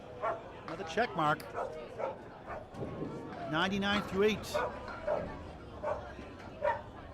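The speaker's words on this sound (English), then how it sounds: "You might hear a distinctly barky dog in the background." A dog barks and yips repeatedly in the background of a bowling alley during a mixed league match, the sharp bursts overlapping with a commentator's steady speech.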